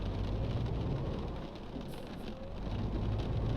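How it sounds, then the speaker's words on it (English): Steady rain in a trucking video game forms a dense, continuous hiss with a low rumble beneath it, even and unbroken throughout, with no talk. "Get rid of this rain."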